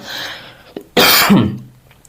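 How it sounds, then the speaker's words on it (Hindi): A single harsh cough bursts out close by after a brief throat sound, loud and abrupt, then fades into quiet. "भाई खांसी आ रही है।"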